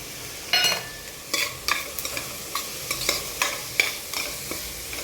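Curry leaves crackle and sizzle in a hot pan as a spatula scrapes and stirs in quick, repeated strokes, nearby and fairly loud.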